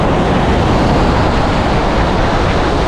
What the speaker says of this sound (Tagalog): ang lalakas ng alon